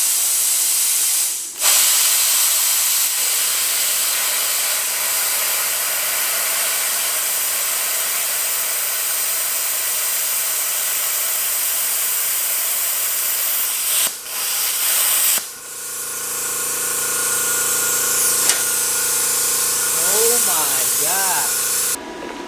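A Bestarc BTC550DP plasma cutter slicing through 16 mm solid steel, a loud steady hiss running unbroken for about fourteen seconds, then a change in tone with ringing whines near the end.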